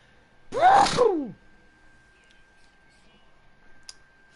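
A single loud sneeze bursts out near the start, then near silence with a faint steady tone and a small click toward the end.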